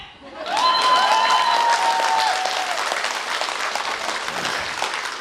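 Wedding guests at a celebration break into loud, sustained clapping that swells quickly and carries on steadily, with a few whistles near the start and crowd noise mixed in.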